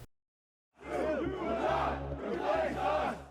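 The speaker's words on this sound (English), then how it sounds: "White nationalists chanted anti-Semitic slogans during the" White nationalists at a rally in Charlottesville, Virginia, chant slogans in unison: a large crowd of voices starts abruptly after a short silence and keeps a loud, rhythmic chorus going to the end.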